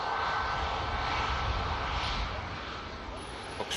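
Boeing 737 jet on its takeoff roll at Manchester Airport, a steady broad engine roar heard from a distance that holds evenly and eases slightly toward the end.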